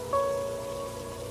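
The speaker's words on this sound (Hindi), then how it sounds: "थोड़ी देर में बारिश रुक जाएगी।" Steady rain falls as a story sound effect, a soft continuous hiss of drops beneath a faint sustained tonal drone.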